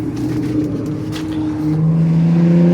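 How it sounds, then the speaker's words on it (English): Street car racing in Miami: a loud, close engine drone holding a steady low pitch, then rising as it revs, with faint crowd clatter behind and no talk. "They doing motorcycle racing and car racing where I'm at right now."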